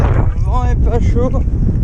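Wind buffets the microphone on a downhill trail run in Normandy, a steady low rumble throughout while someone speaks briefly over it.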